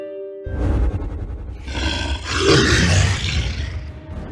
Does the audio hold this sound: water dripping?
no